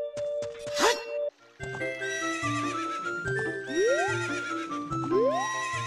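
Horse in the Zelda game Ocarina of Time gives a sharp whinny followed by repeated clip-clop hoofbeats and bright game chimes and tones, loud and close.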